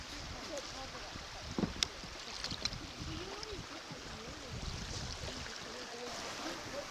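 Antietam Creek running over a small rapid beneath a drifting kayak, a quiet, steady wash of moving water with faint wind buffeting and a few light knocks around the boat.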